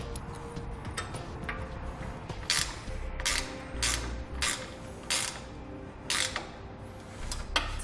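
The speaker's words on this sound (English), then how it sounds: "Get them started and then secured down using a 14mm wrench." A 14mm wrench turning stainless steel lag bolts with washers into carpeted bunk boards on a boat trailer, giving quiet repeated ratcheting clicks and creaks in short bursts, close by and otherwise calm.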